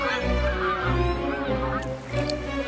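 Several Canada geese honk together in a steady, overlapping chorus, fairly close and loud, with no talking.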